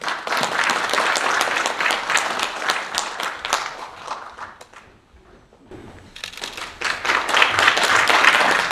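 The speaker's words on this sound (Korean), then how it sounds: "큰 박수로 모시겠습니다" A dense crowd at a commemorative ceremony for the Korean Declaration of Independence anniversary applauds loudly for several seconds, fades briefly to near quiet, then swells again into strong clapping.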